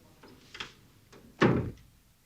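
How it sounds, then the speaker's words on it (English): A door is closed indoors with a soft creak of movement, followed by one firm, heavy thud shut at close range. The room is quiet apart from faint background noise. "close the door, please"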